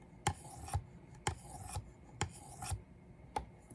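A knife blade is drawn in long strokes across the abrasive of a Work Sharp Precision Adjust sharpener, four evenly spaced raspy scrapes about a second apart, close and clear with no talk.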